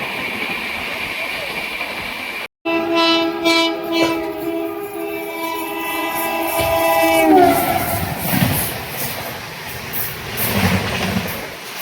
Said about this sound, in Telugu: ఫరీదాబాద్ స్టేషన్ కూడా ఎంత స్పీడ్గా క్రాస్ చేస్తుందో